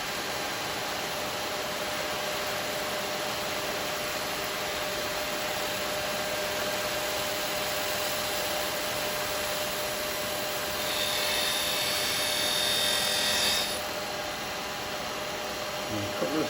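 A carbide chisel cuts a resin bell spinning on a wood lathe, a steady, loud hiss over the motor's hum that swells briefly near the end, with a voice talking over it.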